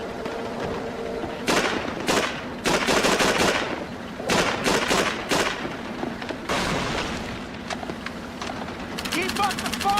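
Bursts of automatic and single gunfire in a video game firefight, loud, close, repeated volleys with short gaps, under a soundtrack.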